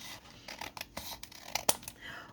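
Scissors cut through paper for junk journal pockets, giving a quick series of crisp snips and rustles, close and fairly quiet, with one sharper snip near the end.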